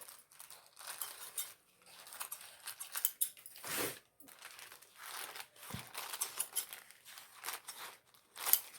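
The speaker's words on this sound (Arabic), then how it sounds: "فاحنا الوقت هنقص الدراعات ديت كده" Scissors cut through a medium-sized plastic bag being made into a kitchen apron, giving close, quiet snips mixed with crisp crinkling of the plastic in irregular bursts, with no talking.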